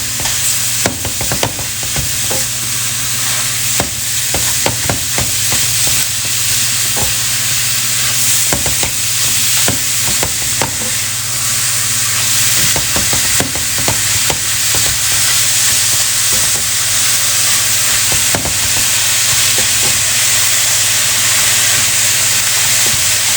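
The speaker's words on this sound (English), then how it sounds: "We are ready to add the ground turkey to the veggie turkey skillet." Ground turkey and vegetables sizzle steadily in a skillet, with a constant frying hiss broken by frequent scraping stirs and clinks, close up and without talking.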